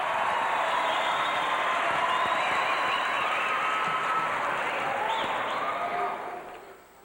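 Loud, sustained crowd roar and applause at a 1989 women's volleyball match between Hawaii and Pacific, filling the whole clip evenly before fading out near the end.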